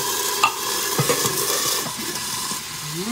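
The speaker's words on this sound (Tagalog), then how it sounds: "ilagay na natin ang ating sardinas. Ayan. Masarap to. Magtalsikan to ngayon." Sardines fry in a pan of hot oil with a continuous close sizzle and scattered spitting pops, a stirring scrape running through it and no talk.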